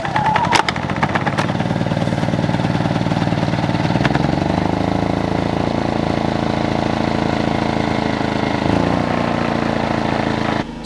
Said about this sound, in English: if you tip it up kind of in this position for a little bit, it usually starts right up